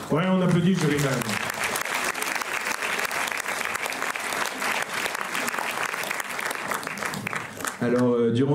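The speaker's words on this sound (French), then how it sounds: "on applaudit le jury quand même" Audience at a film festival closing ceremony applauds the jury, a dense, steady burst of clapping lasting several seconds, with a voice speaking just before and after.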